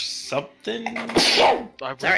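A single sharp sneeze during a tabletop role-playing game session, loud and close, with people talking just before and after.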